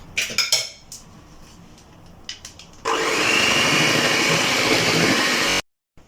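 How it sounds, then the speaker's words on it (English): Eggs and butter are beaten in a bowl, first with a few clinking taps, then a steady loud whirring mix that runs for several seconds before cutting off abruptly. "2 eggs in your butter. And then beat it up."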